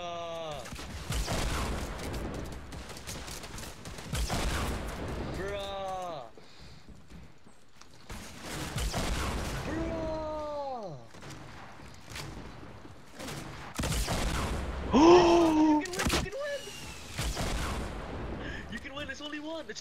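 Rapid bursts of gunfire in the Fortnite battle royale video game, sharp clustered shots recurring in several volleys with pitched whooshing effects between them, fairly loud and close.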